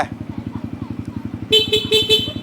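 A 2020 Yamaha Xmax scooter idles on its stand with a rapid, even exhaust putter close by, and a few short honks of the horn sound over it near the end.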